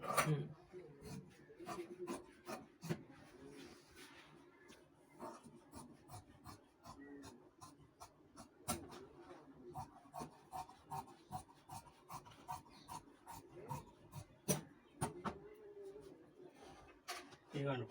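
Scissors snip through shirt cloth while a school uniform shirt is being cut out, giving repeated short crisp cuts and rasping slides of the blades, close up, with a voice talking at intervals throughout.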